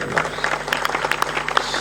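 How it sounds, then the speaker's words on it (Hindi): Scattered hand claps from an audience at a devotional gathering greet Shri Hemraj ji, a former legislator. The claps are brief and sparse, sounding over a steady background hum. "इनके लिए ताली बजाओ,"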